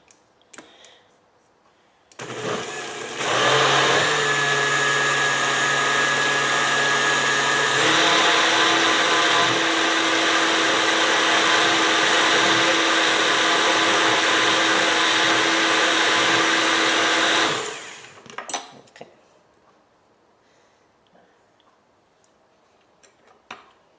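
An electric blender whirs loudly and steadily for about fifteen seconds while mixing coconut coriander chutney with chili, ginger and salt, starting abruptly, holding a constant high roar with a slight pitch shift, then cutting off to near silence.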